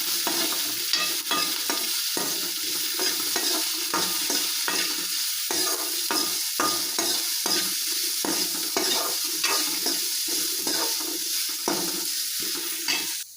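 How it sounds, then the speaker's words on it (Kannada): Sugar roasts in hot oil in a pan, hissing and sizzling steadily while a spoon scrapes and stirs in quick repeated strokes, close and continuous. "ಸಕ್ಕರೆ ಇಟ್ಟು ಹುರ್ಕೋತೀನಿ ರೀ"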